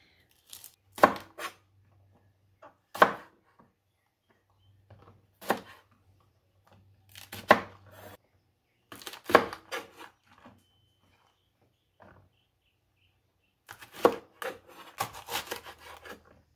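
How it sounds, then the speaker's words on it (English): Knife chopping garden peppers on a cutting board for pickling, coming in separate bursts of rapid close chops with quiet pauses between them. "All right, all the chopping is done."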